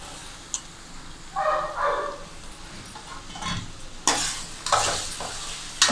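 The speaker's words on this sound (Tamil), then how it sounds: "இதையும் போட்டு அந்த மசாலாவோட நல்லா கலந்துக்குங்க காயை." Potatoes and vegetables being stirred into masala in a pan, with scraping strokes in short bursts and a faint sizzle underneath, close up with no voices.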